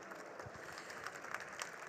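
Audience applause at a green technology business summit, a steady wash of many hands clapping at moderate distance with scattered sharper claps, filling the whole stretch without a break.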